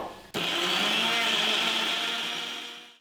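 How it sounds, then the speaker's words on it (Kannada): A mixer grinder whirs loudly as it grinds chopped tomatoes with water in a mixie jar, starting abruptly after a brief pause, holding a steady high whine for nearly three seconds, then slowing and cutting off. "ಸೊ ಇದನ್ನೆಲ್ಲ ಒಂದು ಮಿಕ್ಸಿ ಜಾರ್ಗೆ ಹಾಕ್ಕೊಂಡು ನೀರೇನೋ ಹಾಕ್ತಲ್ಲ ರುಬ್ಕೋಬೇಕು"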